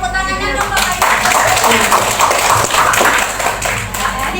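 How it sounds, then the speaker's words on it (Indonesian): A talk show audience applauds, a dense, steady patter of many hands clapping that carries on loudly and evenly for several seconds, with a voice faintly heard at the start. "Coba aja tepuk tangannya dong Bapak Ibu."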